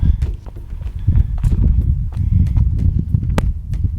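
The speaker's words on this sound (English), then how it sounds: "Got horses literally right on the trail." Horses clip-clopping along a river-level hiking trail in Big Bend National Park, hooves striking loose ground in an irregular walking rhythm, close by and fairly loud, with one sharp click standing out.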